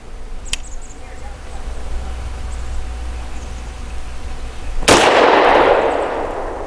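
A single loud, sharp gunshot from a Vz CZ 52 pistol cracks nearby, followed by a long, booming outdoor echo that slowly fades.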